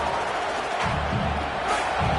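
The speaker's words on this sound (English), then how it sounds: "Listen to this crowd just shaking the girders of this place trying to help their defense." A large college football stadium crowd roars steadily to rally its defense, a dense, sustained wall of cheering with swelling peaks.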